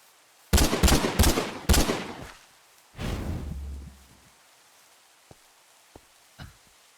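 Gunfire from a gun in the Minecraft Create modpack game: a quick burst of several loud shots, then a rumbling boom that fades, followed by a few faint sparse clicks, with no talking.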